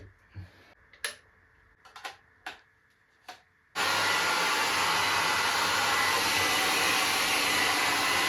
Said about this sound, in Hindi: फिर देखा कि ड्रायर भेज रखा है भाई जिसकी मुझे जरूरत थी